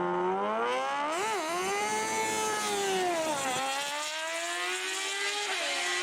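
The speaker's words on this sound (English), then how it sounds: "let's just watch some cool and loud cars with way too much power rip their way up a hill." A high-revving car engine of about 185 horsepower screams loudly on a hill climb, pitch climbing and dipping through gear changes as it tears past, sustained and close.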